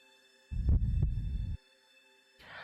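A heartbeat sound effect from the visual novel game Chaos;Child: a single deep, muffled double thump lasting about a second, with no talk over it.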